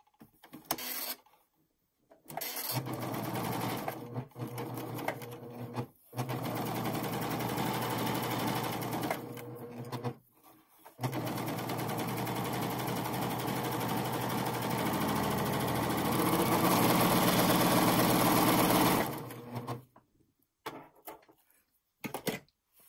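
A Pfaff admire air 7000 serger fitted with an elastic foot sews elastic onto fabric. It runs in long, steady whirring bursts broken by brief stops, close and moderately loud, and no one speaks.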